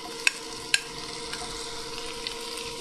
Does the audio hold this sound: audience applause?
no